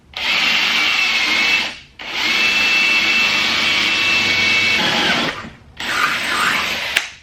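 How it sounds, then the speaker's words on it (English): Power drill boring through a Mazda Miata's metal car body while fitting a KBD body kit; loud, steady whining runs in two long bursts with a brief pause, then a shorter third burst, with no talking. "and then drill through the body."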